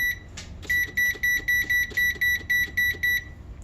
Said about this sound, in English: I'll set the timer.